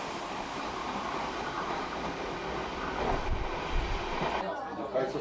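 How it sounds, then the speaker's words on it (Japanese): Sagano Scenic Railway trolley train pulling away, a steady broadband rumble and rolling rattle of wagons close by, swelling slightly with a few heavier thumps near the end. "トロッコ列車は出発します"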